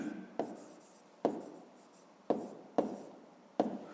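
A pen writes on paper for a fifth-grade math exercise, giving soft scratchy strokes broken by five sharper taps as the pen meets the page, faint and close with no talk.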